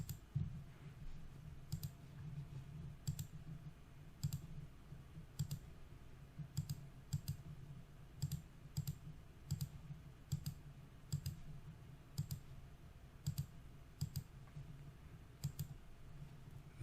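Quiet computer mouse clicks and light keyboard typing at a desk, a series of soft crisp taps at an irregular pace over a low steady hum, faint and close.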